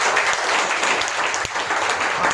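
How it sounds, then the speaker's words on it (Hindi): Classroom audience clapping on request during a motivational lesson, a dense, lively burst of many hands with a few sharper individual claps standing out, sustained throughout. "ताली बजाओ एक बार मेरा"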